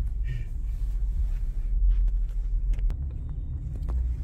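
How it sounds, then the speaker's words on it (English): Traffic rolls along busy Liberty Avenue in Queens, a low steady rumble of passing cars with occasional brief clicks and knocks, heard from the roadside without talk. "Yep, a lot of traffic, a lot of activities."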